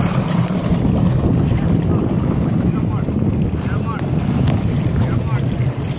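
Jet ski riding on a lake with chalky water, a continuous loud rush of wind and spray with engine drone, close and steady, with faint voices underneath.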